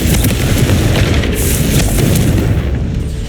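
A Confringo blasting spell from Hogwarts Legacy erupts in a loud, sustained booming explosion that fills the whole moment with dense rumbling roar and no talk.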